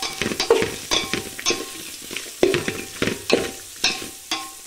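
Chili powder being stirred into hot oil in a pan for palav, a close sizzle broken by frequent spoon scrapes and clinks against the pan in a busy, uneven rhythm, with no talking.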